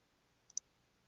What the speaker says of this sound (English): I hear you clicking.